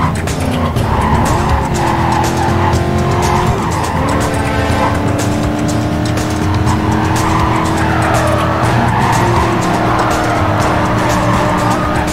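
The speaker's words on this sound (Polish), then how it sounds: "Chyba to jest dźwięk Mustanga, nie?" Mustang engine roaring in a racing video game set in Palmont City, with long tire squeals and skids over sustained revving, dense and loud throughout.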